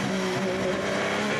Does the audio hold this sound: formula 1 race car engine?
yes